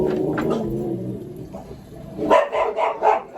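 Several dogs bark in a quick burst of loud, close yaps at the mail carrier's arrival, following a stretch of mixed household noise and muffled sound.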